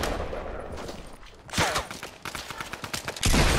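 Rapid bursts of gunfire from the Fortnite video game crack out in uneven volleys, growing louder and denser toward the end, with scattered single shots between the bursts.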